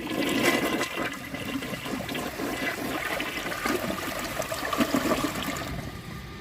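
A 1998 Kohler Wellworth Ingenium toilet flushes a washcloth down, with a steady loud rush of water swirling through the bowl for several seconds before easing off.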